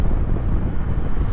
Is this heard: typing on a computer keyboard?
no